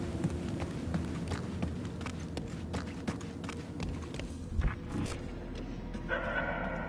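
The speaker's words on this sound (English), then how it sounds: "The barking is getting fainter." A dog barks repeatedly at a distance in the video game Guardians of the Galaxy, amid busy game ambience with footsteps and scattered clatter, the barks fairly faint and fading.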